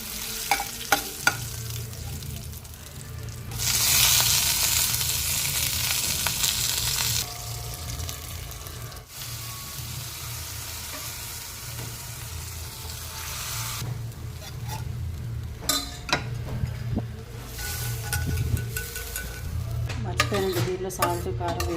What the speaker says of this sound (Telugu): ఇక్కడ పోపు వేగిపోతుంది